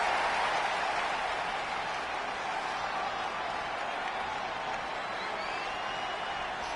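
Steady wash of crowd cheering fills a WWE 2K20 video game arena as the Iconics come out before their home crowd, a broad, continuous roar holding level throughout with no clear voices over it.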